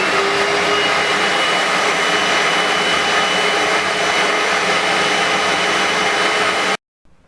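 A Little Green Machine portable carpet cleaner runs continuously and loud, suctioning water out of a plush toy with a steady roaring whine, then cuts off abruptly near the end.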